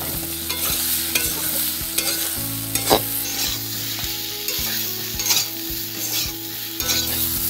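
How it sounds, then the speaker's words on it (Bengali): Chopped ridge gourd goes into a pan of spices that have been frying for about fifteen seconds, giving a steady loud sizzle with repeated stirring scrapes and clatters throughout, no voices. "মশলাগুলো পনেরো সেকেন্ড ভাজা হয়ে গেছে এবার আমি দিয়ে দেবো কেটে রাখা ঝিঙেগুলো"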